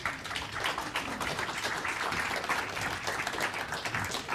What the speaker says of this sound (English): if you're going to applaud, I actually request that the applaud doesn't go to me